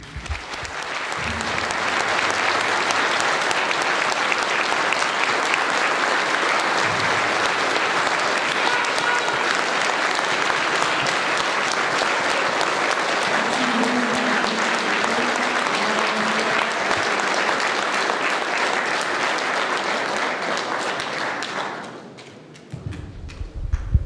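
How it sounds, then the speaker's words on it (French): Sustained applause from an audience at a political gathering welcoming a Syrian Baath Party representative: a dense, loud, steady wash of clapping that lasts about twenty seconds before tapering off. "je vous demande de l'applaudir"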